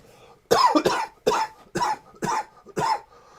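A person coughs repeatedly near a keyboard, six loud harsh bursts in quick succession, close and alone with no talk.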